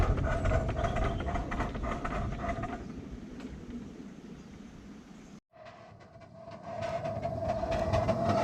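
Miniature railway train of three locomotives, three coaches and a brake van rolling past, a steady rumbling run with rail clatter and a brief dropout midway before the sound returns.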